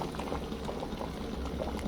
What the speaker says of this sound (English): Bringing cold eggs and cold water to a boil.